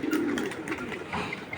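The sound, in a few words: pigeons cooing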